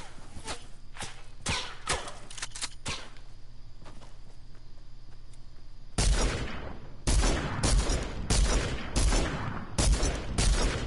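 Rapid gunfire in a PS4 shooter game, bursts of shots and cracks, quieter and scattered at first, then a loud, dense fusillade of repeated volleys in the second half, with footsteps mixed in.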